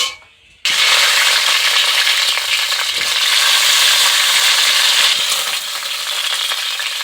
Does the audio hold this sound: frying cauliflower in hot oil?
yes